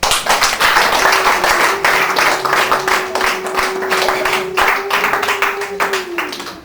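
Dense audience clapping and applause at a Rwandan gathering, loud and continuous, with a sustained tone humming underneath for several seconds before the clapping slowly thins out.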